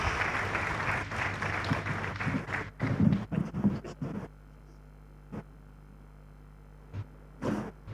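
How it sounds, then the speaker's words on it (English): An audience at a Nigerian business CEO forum applauds a guest after a fireside chat, a dense burst of clapping for about four seconds that dies away into a quiet room with a few stray claps. "a round of applause for my guest"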